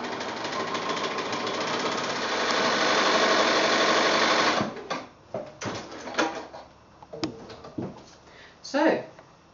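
A sewing machine stitching strips onto a quilt block runs in a steady, close whir for about four and a half seconds, then stops, giving way to scattered clunks and handling noises.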